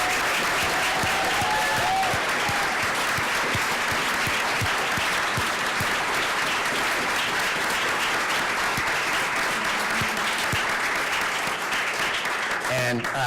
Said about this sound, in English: I'd like all of you to please stand so we can give you another round of applause